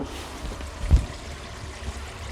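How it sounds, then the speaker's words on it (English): Water from a full bathroom sink drains down through the pipe underneath after unclogging, a soft continuous trickle with one brief louder gurgle near the middle, close and quiet. "you can hear the water coming through it"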